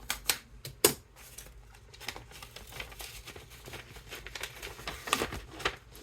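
A trading card pack wrapper is torn and crinkled open by hand at close range, a string of sharp rips and crackles with brief pauses, no voices.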